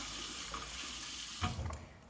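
Tap water runs steadily into a sink while dreadlocks are washed with dishwash liquid, a continuous close rushing stream with a brief clunk partway through.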